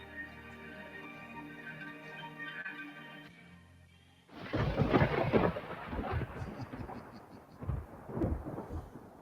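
Thunderstorm thunder rolling in loud and close after a few seconds of quiet, a long rumbling crash that swells and fades in several waves, following a brief stretch of low background tones.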